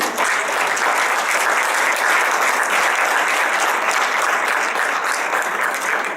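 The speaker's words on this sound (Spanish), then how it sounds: "para quien pido un fuerte aplauso" Sustained, loud applause from a conference audience welcoming a professor as a speaker on physical education assessment, steady dense clapping filling the whole stretch without pause.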